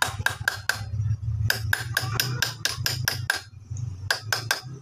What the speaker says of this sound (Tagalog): Yung nakatuping lock na yan, sisinsirin lang yan gamit yung screwdriver